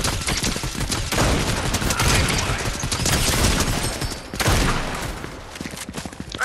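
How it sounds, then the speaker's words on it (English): Sustained rapid gunfire from the Fortnite video game, dense overlapping shots and loud bursts filling the whole stretch, with a brief lull and a renewed volley near the end. "I hear shooting."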